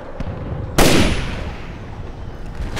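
A single loud, close sniper rifle shot rings out in Splinter Cell: Chaos Theory during a mission in Seoul, its sharp crack trailing into a fading echo under steady game ambience.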